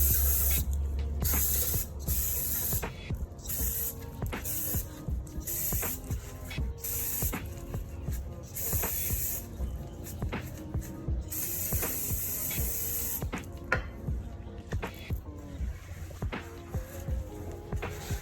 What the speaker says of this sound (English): And in the drum, Uh-huh. we want to give it a nice little Spray too.